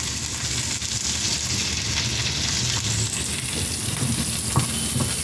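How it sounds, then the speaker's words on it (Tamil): Urad dal and chilies fry in hot oil, a dense, steady close sizzle and crackle with faint stirring knocks. "இப்போ நல்லா ஃப்ரை பண்ணுறோங்க."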